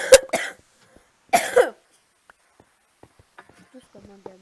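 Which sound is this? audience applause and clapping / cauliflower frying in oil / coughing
coughing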